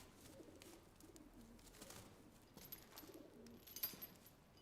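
A pigeon coos softly in a scene from a Chinese historical costume TV drama, giving a faint, low, repeated burbling call against a quiet background with no speech.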